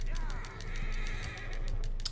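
In the Red Dead Redemption II video game, a horse whinnies in a drawn-out, wavering call, with hoof clatter and game ambience underneath.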